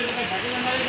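Rain falling steadily at a roadside in Nalasopara, a dense soft hiss of drops on surfaces filling the short moment without a break.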